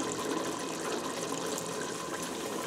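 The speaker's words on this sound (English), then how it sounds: "Pour a little bit more Coke in" Cola poured into a simmering homemade sauce on a stove, a steady broadband liquid rush that runs without a break, fairly loud and close, with no voices over it.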